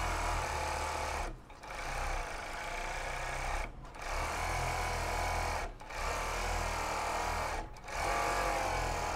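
A sewing machine runs steadily while altering a school uniform skirt, a loud close mechanical whirr in long bursts separated by four brief pauses.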